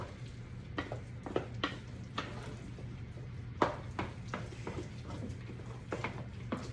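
A spoon stirs chunks of sausage and casserole ingredients in a pan, giving scattered scraping and clacking strokes over a faint, steady sizzle, close and fairly quiet.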